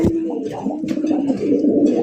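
A red station pigeon from a breeding pair coos close by in low, rolling repeated calls that run continuously through the moment.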